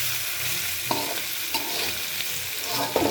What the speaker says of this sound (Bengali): এটা আমি কিছুক্ষণ নেড়ে চেড়ে নামিয়ে ফেলবো।